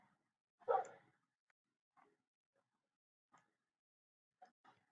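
A dog gives one clear bark followed by several faint, short yips and whimpers with quiet gaps in between, heard alone indoors.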